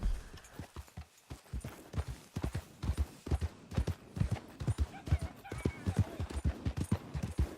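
Horse hooves clip-clop steadily under a rider in Red Dead Redemption 2, a close, regular walking rhythm of sharp thuds across the whole stretch with a faint whinny-like tone and light background.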